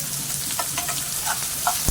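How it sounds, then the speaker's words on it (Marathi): Curry leaves dropped into hot oil for tempering, a loud close crackling sizzle with sharp spitting pops, brief and without speech. "कढीपत्ता सगळं एकदमच टाकायचं फोडणीला"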